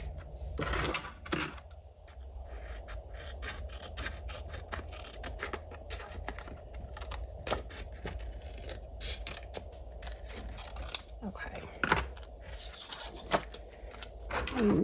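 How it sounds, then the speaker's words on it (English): Scissors snip through a small piece of rub-on transfer paper at a crafting table, making a run of close, crisp snips and clicks over a quiet, steady background. "I'm gonna cut out just a small amount of this."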